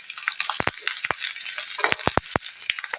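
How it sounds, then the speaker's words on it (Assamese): Green chillies fry in mustard oil with a steady close hiss broken by sharp spitting pops and crackles, and no one talks. "অলপ ভাজি লৈছোঁ।"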